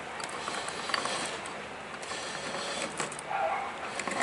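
Spider gears in a locked rear end from a lowered MTD mower with a 27 HP V-twin turn with a faint, steady mechanical whir. Soft ratcheting clicks and creaks come through at low volume.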